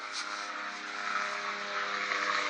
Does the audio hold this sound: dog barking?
no